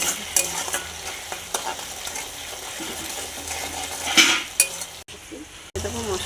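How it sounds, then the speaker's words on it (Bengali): Tomato tipped into hot frying spices for a chicken curry: a loud sizzle flares up as it lands, then a spoon scrapes and clinks against the pan while the frying hiss continues close by. "টমেটোটা দিয়ে দিচ্ছি"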